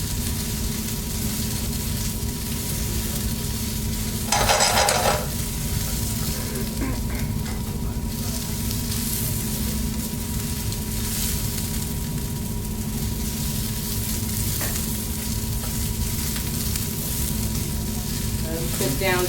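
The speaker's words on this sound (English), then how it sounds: "And we continue to saute. We're going to sweat out those mushrooms and get some color on them." Mushrooms sautéing in oil in a pan: a continuous loud sizzle and crackle with occasional stirring scrapes, and a brief sharp hiss burst early on.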